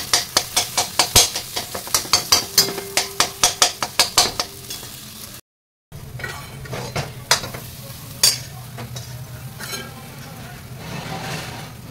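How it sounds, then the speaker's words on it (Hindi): Food frying in ghee in a pan sizzles under rapid, regular metal spoon clinks for several seconds, then a brief dropout, then a softer sizzle with scattered scrapes and taps. "बढ़िया से इसको फ्राई करना है"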